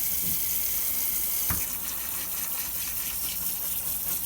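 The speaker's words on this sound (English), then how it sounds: "let's wash it off with some water" Running water gushes steadily over a Thunder Tiger Tomahawk MX nitro engine case to rinse off grime, a quiet continuous flow with a faint clunk near the middle.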